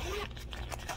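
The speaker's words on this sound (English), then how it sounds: "has the zipper right here" A zipper running along a small cross body bag from a Dollar Tree haul, a quick close raspy zip with a few short scratchy pulls, heard alone without talk.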